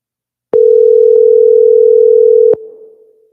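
A loud, steady telephone dial tone sounds alone for about two seconds while a number is being called back, cutting off sharply and then fading out.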